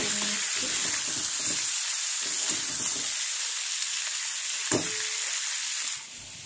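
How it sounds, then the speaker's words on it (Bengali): Already-fried prawns stirred in a hot pan for a prawn malai curry, giving a steady close sizzle with scraping stir strokes in bursts during the first half and one sharp clink near the end, with no voices. "চিংড়ি মাছগুলো দিয়ে বেশ ভালোভাবে নেড়ে তুলে নিচ্ছি।"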